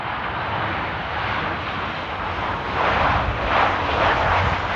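A Cessna 510 jet arrives at Amsterdam Airport in stormy weather, its engine roar a steady broadband rush that swells slightly toward the end, with no voices over it.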